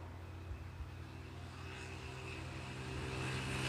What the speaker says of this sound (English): Just a Cessna 152 from the local training school here at East Midlands.